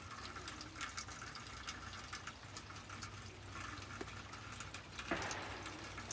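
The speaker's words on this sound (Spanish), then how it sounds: "Está cayendo hielo ya casi 2 días, miren." Ice falls steadily in the mountains, making a faint, continuous patter with scattered small ticks and no voices.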